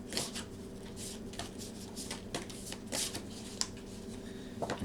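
A tarot card slides off the deck and is laid down, soft papery rustles and light taps repeating close by in a quiet room, with faint background hum.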